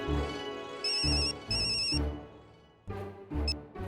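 A telephone rings during a conference call in the sitcom Taarak Mehta Ka Ooltah Chashmah, giving several short electronic ring bursts in a quick uneven pattern, clear and close with no talk over it.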